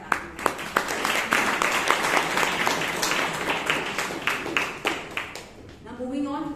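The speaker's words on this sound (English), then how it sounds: "Let us all give a huge round of applause to the speaker and to the evaluator" Audience at a Bangalore Toastmasters meeting claps in a sustained round of applause, with dense, fairly close clapping throughout before it tapers off near the end.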